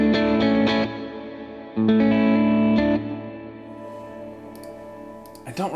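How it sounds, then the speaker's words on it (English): Electric guitar chords played through a reverb preset on a Line 6 POD Go, strummed hits ringing out with a long washy tail that slowly decays between strums, loud and close. "I don't really like that reverb as much though."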